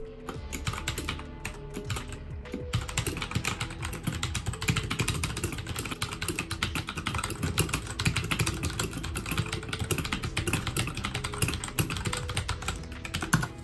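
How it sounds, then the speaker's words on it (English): RK61 mechanical keyboard with brown switches typed on continuously, a dense, close patter of soft clacks and thocks running steadily throughout without speech. "I do want to leave you with a sound test of the brown switches on this board"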